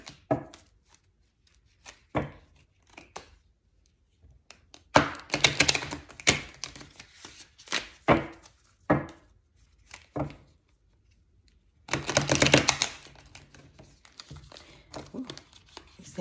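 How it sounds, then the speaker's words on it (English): Bursts of papery riffling and soft slaps come in irregular clusters, two longer flurries standing out, close by with no talking. "Things are really hard for me to shuffle sometimes."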